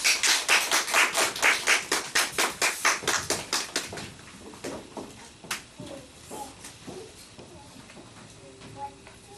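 A church congregation claps in loud, steady unison to welcome a member forward, the rhythmic applause strong for about four seconds before thinning into scattered taps and quiet room noise.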